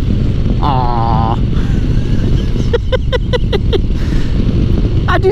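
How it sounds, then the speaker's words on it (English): A Harley-Davidson Low Rider ST motorcycle engine runs hard against the rev limiter, with a quick burst of rhythmic stuttering cuts under heavy wind rush on the microphone. "I think this could rev out a little bit higher"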